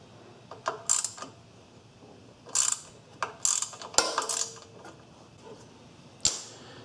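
A ratchet wrench loosens a 5/16 bolt on the carburetor of an MTD riding mower, giving short, close bursts of sharp clicking ratchet strokes separated by brief pauses over quiet background.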